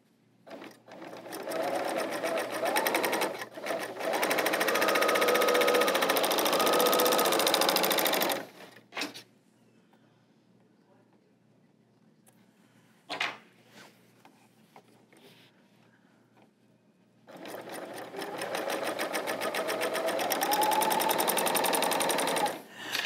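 Baby Lock L890 serger sewing in fast, rapid-fire stitching bursts: a long run, a quiet pause with a brief clatter, then another sustained run, close and clear with no talk.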